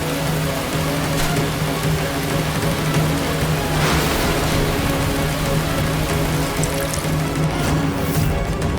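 Sudden rain falls steadily in a Hindi TV drama scene, a dense even hiss filling the whole stretch without pause, close and fairly loud, with no talk over it.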